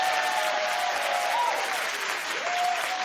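Studio audience applause on a daytime TV talk show: a continuous, loud, even roar of clapping that fills the whole three seconds. Faint whistles sit above it.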